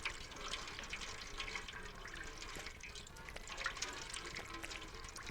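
A cat laps water from a bowl in the video game Stray, a steady wet trickling and splashing that runs unbroken and fairly quiet from start to end with no voices.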